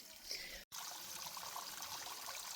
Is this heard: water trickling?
yes